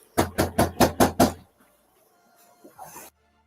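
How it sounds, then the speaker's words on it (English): Six loud, evenly spaced bangs on a door in quick succession, then quiet room noise with a faint rustle. "When they're banging on the door like that,"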